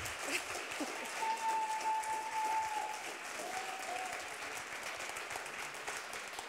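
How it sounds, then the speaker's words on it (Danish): A crowd applauds steadily at moderate volume after a high school musical performance, the clapping swelling early then holding even, with a faint tone briefly audible beneath it. "skal vi ikke lige klappe af det?"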